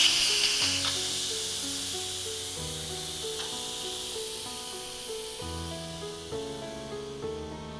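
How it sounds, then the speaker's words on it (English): A first-generation Yedi electric pressure cooker vents steam through its quick-release valve in a loud, continuous hiss that fades slowly, with faint music playing underneath. "we're gonna release the pressure and steam using the quick release"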